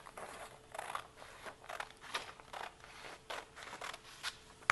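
Scissors snipping through paper while making an art journal page, a quick series of short crisp cuts, fairly quiet and close, with no talking.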